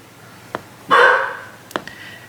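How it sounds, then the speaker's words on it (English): A dog barks several times nearby, a few sharp separate barks with one longer, louder bark in the middle, heard alone without talk. "the dog keeps barking"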